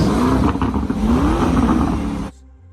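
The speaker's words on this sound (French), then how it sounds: "Voici l'échappement de l'Urus." Lamborghini Urus exhaust revving loudly up close, a deep, rumbling engine note that swells and falls for about two seconds before cutting off abruptly to a faint low hum.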